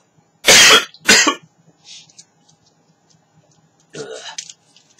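Two strong, close coughs from someone smoking Pueblo Orange hand-rolled tobacco shag, followed by quieter throat noises and a rougher cough-like burst near the end.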